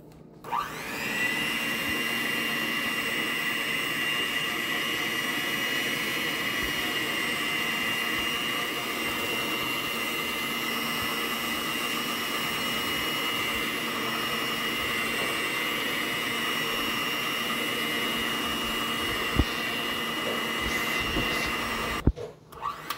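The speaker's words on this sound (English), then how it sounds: "I will put my mixer ready here. Okay, then I will start mixing." An electric mixer runs steadily at close range while mixing Easter bread dough, giving a continuous loud whirring motor drone with a tonal whine that lasts over twenty seconds before it switches off abruptly at the end.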